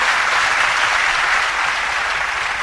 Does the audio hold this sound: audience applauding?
yes